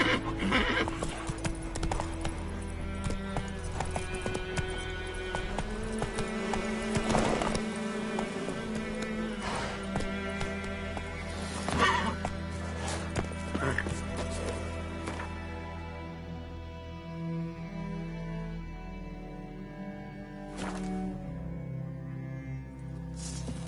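Horse in The Witcher 3 game clip-clopping in steady hoofbeats with a loud neigh, backed by orchestral music and ambient game sound, hooves continuing as the score carries on.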